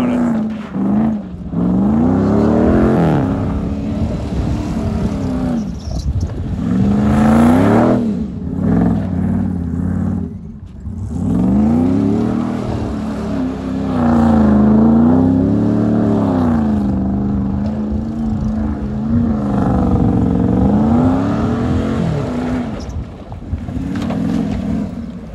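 A Dodge 4x4 truck does donuts in mud, its engine revving loudly in repeated rising and falling surges that swell and drop over and over, close by, with no talking.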